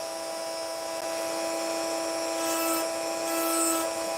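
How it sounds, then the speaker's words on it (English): An opal is ground against sandpaper, making a steady, continuous gritty rubbing hiss with a sustained tone, close and even throughout. "this needs to go onto the sandpaper to get properly done."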